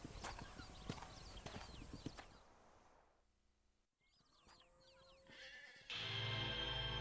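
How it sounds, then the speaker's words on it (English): Horse hooves clip-clop in a brisk, steady rhythm in the Red Dead Redemption game, fairly faint, then stop and fade into quieter ambient sounds and a louder background rush. "Hitch your horse at the hitching post."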